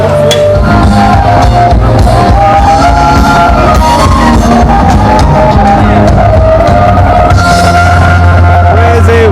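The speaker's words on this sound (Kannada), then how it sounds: "ಪ್ರಸಾದಕ್ಕೆ ತುಂಬ ಕ್ರೌಡ್ ಇದೆ ನೋಡಿ, ತೋರಿಸ್ತೀನಿ." Dense crowd noise in a Ganesha festival prasad queue, loud and continuous, with shouts, yells and overlapping voices over a steady low rumble throughout.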